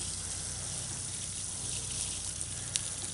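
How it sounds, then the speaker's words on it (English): Hose water running down a substantial garden slope from a house toward a pond, a steady broad rushing hiss with no change over the few seconds and no voices. "Just watch how that water runs"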